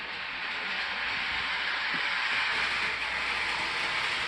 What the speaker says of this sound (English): Run the train forward